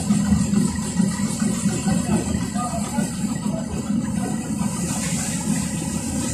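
An excursion boat's engine rumbles steadily at a low pitch while cruising a Sevastopol bay, a constant drone with a faint watery wash and some background chatter.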